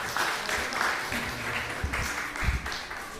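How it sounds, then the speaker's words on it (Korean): Congregation clapping in welcome at a Korean church Christmas service, a steady wash of hand claps from many people with faint voices murmuring underneath. "옆에 있는 분들 박수로 환영하겠습니다"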